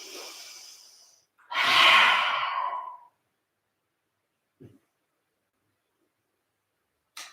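Two breathy exhales with the tongue out during a yoga breathing exercise: a softer airy release, then a longer, forceful rushing breath, followed by near silence and a couple of tiny brief sounds.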